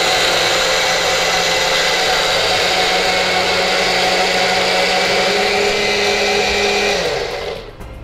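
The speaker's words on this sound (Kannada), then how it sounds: "ಸೊ ಇವರ ಮಿಕ್ಸಿ ಸೂಪರ್ ಫಾಸ್ಟ್ ಆಗಿ ಗ್ರೈಂಡ್ ಆಗುತ್ತೆ." A kitchen mixer grinder runs at high speed, a loud, steady whirring roar that holds for several seconds, then winds down and stops near the end. No one speaks.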